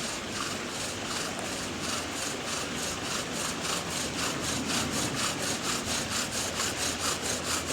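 A bow drill spindle spins against a wooden board to make fire, a steady back-and-forth rasping friction with an even stroke rhythm, close and moderately loud, with no talk.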